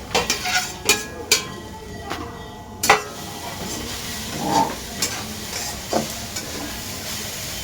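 Grated coconut roasts in a pan while a spatula stirs it, giving a run of sharp scraping knocks over a low sizzle, fairly close.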